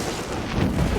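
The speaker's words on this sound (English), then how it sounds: "that was a 25 explosion" Explosion in the video game Ring of Pain, a short, dense burst of noise that swells toward the end, close and loud with no talk over it.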